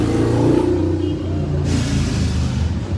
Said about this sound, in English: That's a very loud motorcycle.